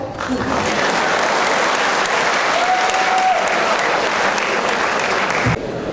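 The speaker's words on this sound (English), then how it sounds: "You want to clap? Clap." Sustained applause from a large audience at a leadership talk, dense steady clapping filling the room for several seconds before stopping abruptly near the end.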